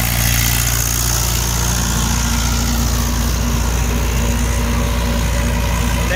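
A Mahindra 575 XP Plus tractor engine drones steadily pulling an 8-foot Shaktiman rotavator under load, a continuous low rumble with rough mechanical texture and no pauses, close to the listener.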